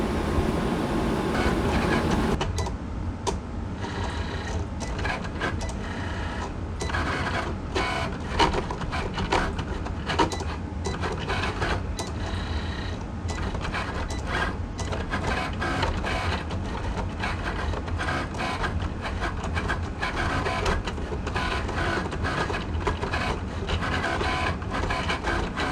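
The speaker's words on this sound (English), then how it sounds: "we are ready to proceed to load the mat into the Cricut machine and let this cut" A Cricut machine cuts heat transfer vinyl on its mat with a long run of rapid mechanical whirring, clicking and carriage movement, close and steady throughout.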